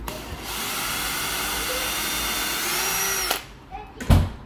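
A power drill driving screws while fitting a stair carpet runner whirs steadily at close range for several seconds, then stops, followed by a few short clicks and a thump.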